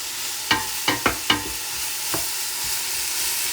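Onions fry in a pan for mussels provençale: several sharp utensil knocks and scrapes near the start over a low, steady background sizzle that carries on quietly to the end.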